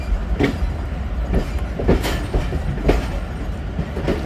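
The Awam Express rolls through Taxila Cantt Junction with a steady rumble and rhythmic wheel clatter over rail joints, loud and close, with no voices.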